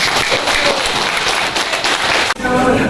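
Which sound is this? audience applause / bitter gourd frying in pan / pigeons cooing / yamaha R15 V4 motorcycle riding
audience applause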